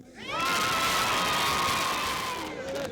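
A crowd gathered at a 1970s Fine Fare supermarket in Hedge End cheers for Muhammad Ali, a sustained, excited roar of many voices with high shouting, heard in a loud swell that holds and then eases off.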